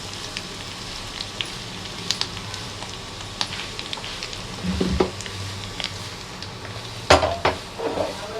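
Gentle sizzling of sesame oil seasoning in a pan with occasional clinks and scrapes of utensils, fairly quiet and close.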